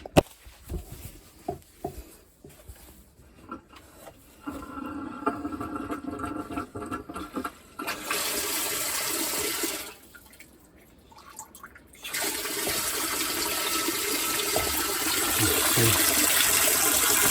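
Water trickles and drips at first, then a strong rush of a toilet cistern refilling runs in loud, steady stretches, briefly dropping before surging again.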